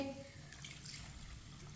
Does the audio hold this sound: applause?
no